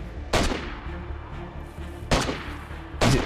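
Gunfire in the video game DayZ, set in a tropical map: three loud, sharp shots spaced about a second apart, each with a booming tail echoing into ambient game noise.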